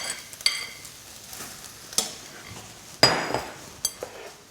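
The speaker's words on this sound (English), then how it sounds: "as we stir that through, it doesn't matter if not all the rice goes yellow" Rice being stirred through hot oil in a pot, heard as a quiet sizzle with a few sharp clinks and scrapes of a utensil against the pot.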